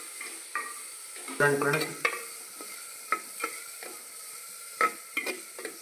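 Biryani masala is stirred in a clay pot for kunda biryani: irregular scraping and knocking strokes over a low sizzle, close up, with a short stretch of talk near the start.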